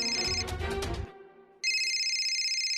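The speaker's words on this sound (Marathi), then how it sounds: "फोन वाजता" A telephone rings in a TV drama scene, a bright electronic ringtone with one burst, a short pause, then a second burst, loud and close with no talk over it.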